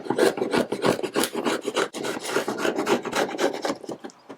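Rapid back-and-forth rasping of sandpaper on wood, close and continuous, in quick uneven strokes with no talking.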